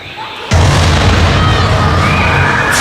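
A sudden loud boom from an overloaded charge of rocket fuel in a circus show bursts in after a quiet moment and rolls on as a sustained, roaring blast to the end.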